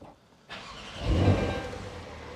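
Porsche 911 Targa 4 with a 3.0 engine and switchable sports exhaust starts up: a quiet interior, then a sudden crank and catch into a loud flare of revs that settles into a steady, rumbling idle.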